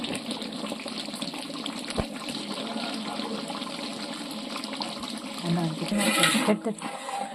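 Water poured into a pot of partly cooked mutton for Kannada-style mutton biryani, a steady gushing pour that swells near the end, with kitchen background noise throughout.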